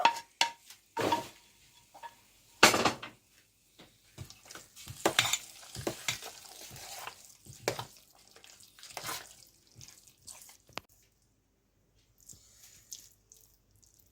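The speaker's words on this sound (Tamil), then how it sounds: "இப்போ நாங்கள் தாளித்த அந்த கலவையை அப்படியே அந்த எண்ணெயோட இதுக்குள்ள கலந்து விடுங்கோ." A tempering with its oil is stirred into curd rice, giving scattered wet squelches and spoon scrapes in short bursts separated by quiet gaps, close and fairly soft, with no talking.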